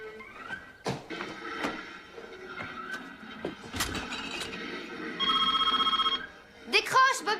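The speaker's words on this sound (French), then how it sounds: "Décroche, Bobby! Réponds, s'il te plaît." A telephone rings in a house in a French horror film, with bursts of electronic trilling between clatter and movement sounds, fairly close, and people speak nearby.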